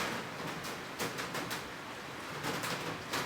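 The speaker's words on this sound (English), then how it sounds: "Man, it is really raining outside now" Heavy rain falling outside, heard as a steady, faint broadband hiss with soft irregular patters, continuous and distant, with no voices.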